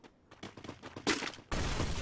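Gunfire in the battle royale game Free Fire during a tournament match: a rapid series of sharp shots, then a dense, sustained burst of automatic fire near the end.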